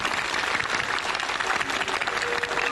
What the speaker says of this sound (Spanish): Y un voto de aplauso para el señor viceministro.